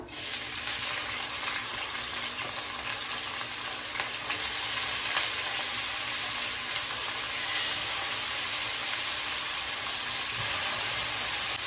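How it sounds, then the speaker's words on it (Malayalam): Brinjal (eggplant) frying in oil in a pan, a steady close sizzle that continues throughout with faint stirring, and no talk. "ഇനി നമുക്ക് ഇതിലേക്ക് വഴുതനങ്ങ ഇട്ട് കൊടുക്കാം"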